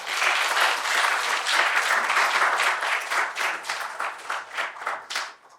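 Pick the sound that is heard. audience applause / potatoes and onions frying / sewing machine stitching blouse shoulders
audience applause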